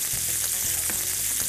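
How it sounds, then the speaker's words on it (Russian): Chicken thigh pieces with the skin left on fry in a pan to a golden crust, giving a steady, close, bright sizzle with soft occasional stirring bumps. "Куски курицы обжариваю на сковороде до золотистой корочки."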